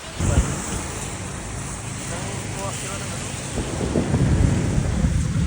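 Rough surf and heavy wind buffeting the microphone during Typhoon Karen flooding, with waves surging in broad low rumbles that build louder toward the end while people talk over the roar.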